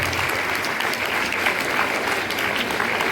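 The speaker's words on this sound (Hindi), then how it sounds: "उनके लिए एक जोरदार ताली बजा दें," Loud, dense applause from a school audience honoring mentors and teachers, steady and continuous throughout without a break.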